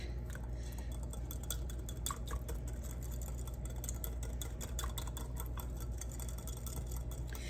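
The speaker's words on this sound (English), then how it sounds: "then I'm going to start giving it a whisk and really give it a whisk" Honey dressing whisked in a bowl with a steady, busy run of quick clinking strokes that continues throughout, close and fairly quiet.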